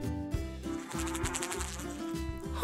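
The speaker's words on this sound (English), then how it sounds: "Honeybee." Honeybee buzzing close up, a loud steady droning hum with pulsing wingbeat swells repeating over a couple of seconds, alone without talk.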